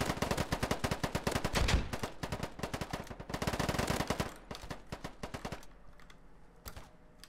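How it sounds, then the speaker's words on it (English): Rapid automatic gunfire in the shooter video game Polygon crackles in long, fast bursts, close and sharp, with short pauses between volleys and a few scattered single shots near the end. "Oh, someone's shooting at me."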